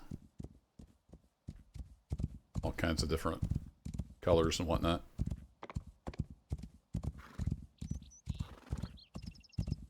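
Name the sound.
horse hooves and neighing in the video game Rising World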